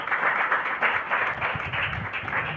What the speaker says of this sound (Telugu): ఇప్పుడు కొడదాం చప్పట్లు.